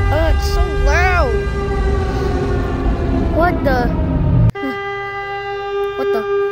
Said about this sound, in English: Why are the tornado sirens going off?